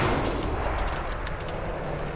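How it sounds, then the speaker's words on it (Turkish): A tank cannon firing in the WWII shooter Enlisted, heard as a dense rumbling blast with a sustained low roar of battle noise, loud and continuous across the short stretch. "Sıkıp duruyor ki tank"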